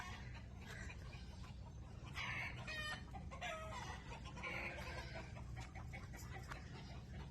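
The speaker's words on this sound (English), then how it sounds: "You hear all them chickens?" Many chickens cluck and squawk together outdoors, with a rooster-like call now and then, a busy, continuous flock noise at moderate distance.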